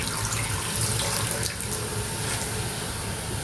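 Water runs from a tap into a pan of sugar for syrup, a steady, close splashing stream that stays even throughout.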